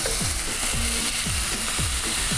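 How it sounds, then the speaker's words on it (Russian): Vegetables fry in a well-heated pan, giving a steady, close hiss of sizzling throughout, with repeated brief scraping swoops as they are stirred. "овощи жарятся в такой последовательности"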